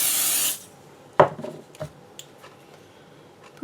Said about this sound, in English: I'm going to start with my pixie spray